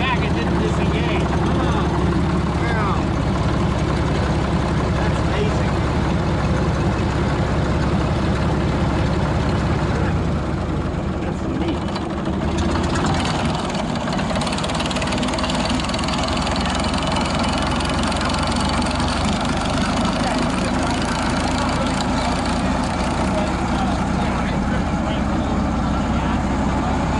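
International TD-18 crawler tractor's diesel engine running steadily near and loud for the whole stretch, a dense rumbling drone with little variation, while voices talk over it.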